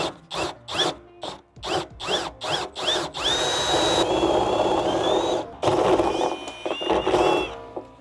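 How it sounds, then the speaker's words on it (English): A power drill with a drill bit boring a hole for an Ice Barrel 400 conversion kit, starting with short whirring pulses before a loud, sustained grinding run that dips briefly and resumes, with no talk. "Now that we have our hole drilled, we can go ahead and remove the template"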